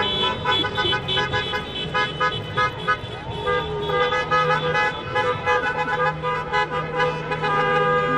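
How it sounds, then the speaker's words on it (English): Cars driving past in a school teacher-appreciation parade, honking repeatedly in overlapping toots and sustained blasts over engine noise, fairly loud and close, with people talking underneath. "A teacher parade. Cars coming by to honor our teachers and teachers of the year."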